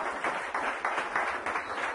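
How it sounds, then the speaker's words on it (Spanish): A church congregation claps in rhythmic waves, a steady, fairly loud burst of applause that swells and dips every half second with no voices over it. "Dale un aplauso bien fuerte al Señor por eso"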